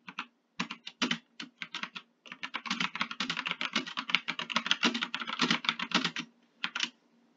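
Typing on a computer keyboard while writing LaTeX and Markdown in Google Colab, a steady run of quick close key clicks with brief pauses, no talk.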